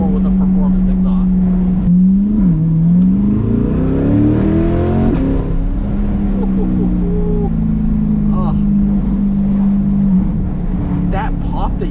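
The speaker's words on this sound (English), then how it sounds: "more of that deep V8 rumble, which is what you're looking for with a performance exhaust." A C8 Corvette V8 fitted with a Corsa cat-back performance exhaust rumbles loudly and steadily, its deep drone rising briefly in a rev before settling back into a sustained idle burble.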